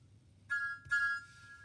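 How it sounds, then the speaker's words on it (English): A single cheerful whistle from Thomas the tank engine, two short bright blasts in quick succession, clear and alone against a quiet background. "He whistled, "Good morning.""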